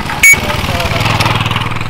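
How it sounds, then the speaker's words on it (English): A local motorcycle passes close by near Sumaco Volcano, its engine putting out a loud, throbbing putter after a brief sharp bang, while people talk over it. "Here's some of the locals coming by on a motorcycle."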